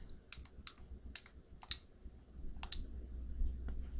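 A computer mouse clicks repeatedly at close range, about eight short, sharp clicks spaced irregularly over a low room hum, with no one talking.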